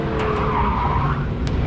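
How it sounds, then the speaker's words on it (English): An orange 1964 Chevrolet Nova with skinny front tires on a fun run at a Goodguys autocross event in Del Mar, California, its tires loudly squealing and skidding through a corner with continuous engine noise, close and sustained. "Mike Adams out there fun running today in this little orange 64 Nova"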